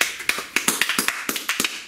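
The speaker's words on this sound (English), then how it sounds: "I'm clapping for myself." One person claps their own hands in a quick, uneven series of sharp, close claps, about a dozen in under two seconds, with no talking over them.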